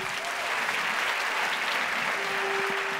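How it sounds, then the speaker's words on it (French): A church congregation at a French-language sermon on faith in the name of Jesus breaks into steady, dense applause and cheering, a continuous wash of clapping that fills the room with no pauses. "Quelqu'un acclame Jésus."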